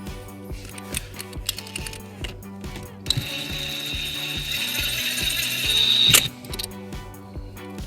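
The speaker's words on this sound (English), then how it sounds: "then we'll secure it with a 10mm socket" A ratchet with a 10mm socket tightens an M8 nut during trailer wiring harness installation on a 2011 Toyota Highlander. Quick, close clicking strokes come in bursts and then give way to a sustained metallic whir as the nut runs down, with no talking.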